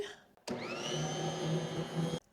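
An electric stand mixer starts abruptly and whirs steadily for about two seconds while mixing sourdough pizza dough, a loud, close, even motor drone, then cuts off.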